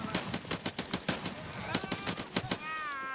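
AK-105 rifle in the Escape From Tarkov game firing on semi-automatic, a rapid run of about a dozen sharp close shots with brief gaps, ending in a ringing tail and faint metallic clinks.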